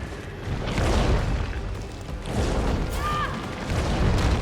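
Grenade round explosions in the game Resident Evil 3, heavy booming blasts with a dense, rumbling crash that swells and fades in a couple of waves, loud and close.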